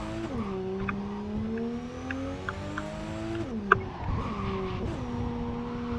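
A car drifts in the game Cyberpunk 2077, its engine droning steadily with rising and falling pitch through the slide, plus a brief sharp knock midway, heard alone without talk.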